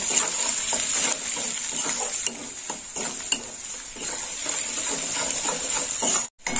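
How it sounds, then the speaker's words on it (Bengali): Chopped onions fry in hot oil with black cumin seeds in a pan, a steady close sizzle broken by scraping stirs of a spatula, ending with a brief drop-out. "পেঁয়াজটা একটু লাল লাল করে ভেজে নেব।"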